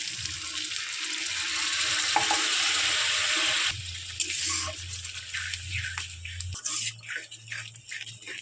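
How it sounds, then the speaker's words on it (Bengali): Curry masala fries hard in a pan with a loud, steady hiss that drops abruptly as water is poured in. A softer bubbling sizzle continues, with a few clinks and a low hum. "জল দিয়ে দিলাম"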